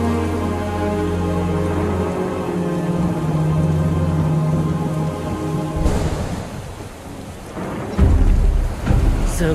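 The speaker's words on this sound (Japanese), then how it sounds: "すごい雨だな。" Heavy rain and rolling thunder in a Final Fantasy VII Ever Crisis cutscene, a steady loud downpour wash with low rumbling, then sharper crashes near the end, under a sustained tonal music bed.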